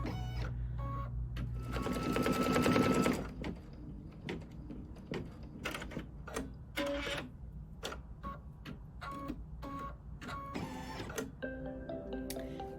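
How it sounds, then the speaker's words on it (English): A computerized embroidery machine stitches a quilt block, running steadily and close with a rapid mechanical chatter, a louder busy stretch early on, then repeated short runs broken by ticks and pauses. "And we are finished embroidering that block."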